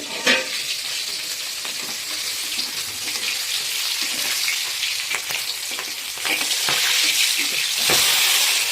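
Pangas fish sizzling loudly in a hot pan, a dense continuous hiss with scattered scraping clicks as the pieces are turned, growing slightly louder toward the end.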